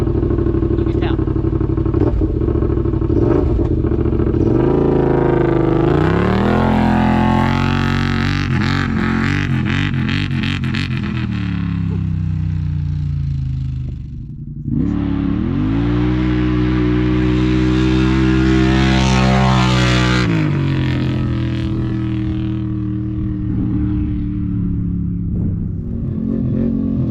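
A Yamaha Rmax 1000 UTV fitted with a performance exhaust accelerates hard, its engine roaring loudly and rising in pitch through gear changes, dropping briefly midway before climbing again and fading back to a steady drone.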